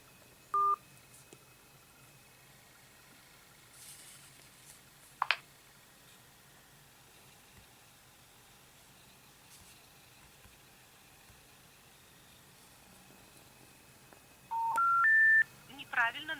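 Telephone DTMF dialing tones played through a smartphone's small front speaker, a short beep at the start and then a rapid rising series of key tones near the end, with faint noise and a brief click between them.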